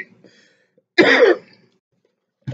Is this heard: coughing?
yes